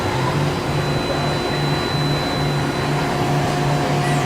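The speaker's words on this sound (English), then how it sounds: "Grinding wheel dresser." Grinding wheel dresser on a Micron MPC-600II CNC centerless grinder from 2003: a loud, steady machine drone with a faint, regular pulsing hum underneath, and no voices.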